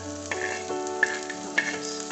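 Prawn curry sautéing in a pan, a steady close sizzle with a couple of sharp crackling pops and no voices.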